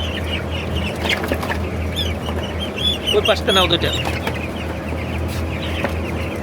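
Broiler chickens on a Bangladeshi poultry farm cluck and squawk loudly while being gathered and weighed. Excited bursts of calls rise in the middle, and people talk throughout.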